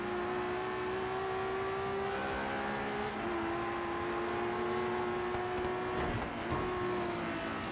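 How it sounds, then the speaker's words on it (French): Steady Ferrari engine drone in the video game Forza Horizon 3, with rising and falling tonal whine, shifting pitch as gears change, heard continuously from inside the car with no talk. "Profiter du bruit moteur à l'intérieur de la voiture."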